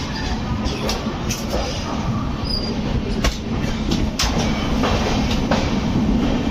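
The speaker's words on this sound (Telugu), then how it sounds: "నాగ్పూర్ నుండి మన ట్రైన్ అయితే 10 minutes తర్వాత అయితే స్టార్ట్ అయింది." A passenger train runs on the rails near Nagpur, a continuous loud rumble with wheel squeals and clicking joints over several seconds, recorded from on board.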